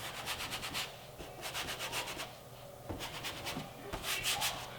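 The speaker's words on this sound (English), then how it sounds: "when you rub your hand over the paint" A hand rubs back and forth over rough, unclayed car paint with gritty imperfections, giving close, soft, rhythmic scratchy swipes in short repeated strokes, with no talking.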